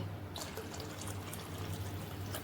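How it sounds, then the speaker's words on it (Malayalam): Thin milk pours into a pot of fish curry with a soft continuous gurgle and splash, close and fairly quiet, over a low background hum. "ഇനി ഇതിലേക്ക് പാലൊഴിച്ച് കൊടുക്കണം കേട്ടോ"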